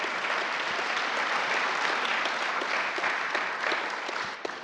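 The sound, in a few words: audience applause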